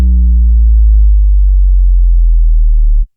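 Synth sub bass note that starts with some upper harmonics and bends down an octave while its filter cutoff closes, leaving an almost pure deep sub tone, loud and steady for about three seconds before stopping abruptly.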